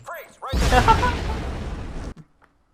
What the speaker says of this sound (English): There are a lot of explosions for two people blending in.